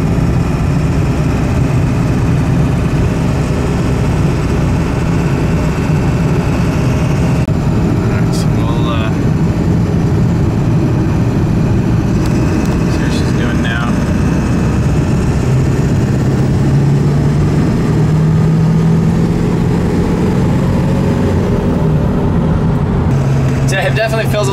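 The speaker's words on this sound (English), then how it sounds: "So just driving it now, seems like it's definitely showing more boost than it normally does, just kind of cruising." A turbocharged car engine drones steadily while cruising under boost, a loud continuous low rumble with slight pitch rises and someone talking over it throughout.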